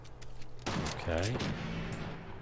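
Gunfire in the video game Fallout 4, a burst of shots starting partway through and continuing at a steady loudness, with a person talking over it.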